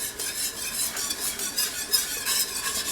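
A whisk beats flour into mushroom and onion gravy for hamburger steak, a quick run of rhythmic wet swishes and light metallic ticks against the pan, close, with no one speaking.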